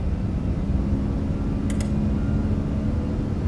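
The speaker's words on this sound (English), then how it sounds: "Nice engine sound." Steady broadband roar of an iniBuilds Airbus airliner's engines spooling up during the takeoff roll in a flight simulator, continuous and even throughout with no talk.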